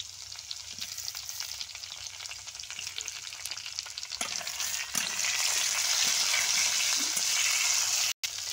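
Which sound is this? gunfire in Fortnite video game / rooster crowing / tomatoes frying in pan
tomatoes frying in pan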